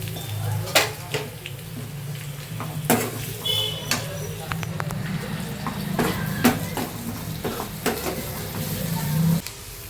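Onions fry and sizzle in a pan while being stirred, with repeated sharp scrapes and clinks of a utensil against the pan over a steady frying hiss, close and continuous.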